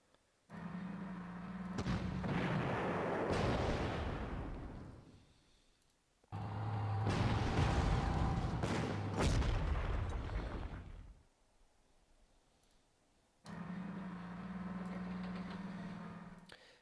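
Artillery fire from a Sherman converted into an indirect fire vehicle in the Panzer Corps war game: three long, loud booming bursts with rolling, crackling decay, separated by short quiet gaps, no talking.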